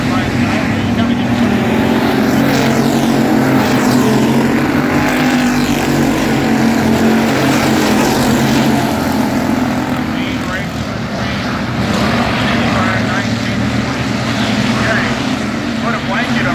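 Factory stock race cars running side by side on a dirt track, a loud continuous engine roar that holds steady with a slight dip midway, under faint announcer talk.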